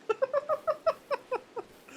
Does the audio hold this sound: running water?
no